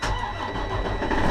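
A Western Star truck engine turning over, a brief loud cranking churn with a low rumble that swells toward the end, heard close with no talking.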